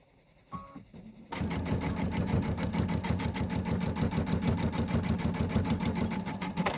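After a short quiet start with a small knock, a sewing machine runs steadily through a locking stitch, its rapid needle rhythm loud and continuous to the end.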